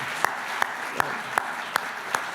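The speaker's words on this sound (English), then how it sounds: "an applause for our panel and for our moderator" Audience applause for a panel and moderator at a medical genetics event, a steady wash of many hands clapping with a few sharp, regularly spaced louder claps, fairly soft and distant.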